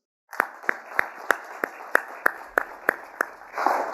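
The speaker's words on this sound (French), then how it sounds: "Et je veux qu'on les applaudisse." At an aeronautics industry event, a small audience claps in slow, evenly spaced strokes, about a dozen distinct claps in steady rhythm, swelling into looser applause at the end.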